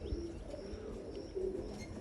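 Soft, low pigeon coos sound faintly nearby, a few murmuring calls against quiet background noise with an occasional small chirp.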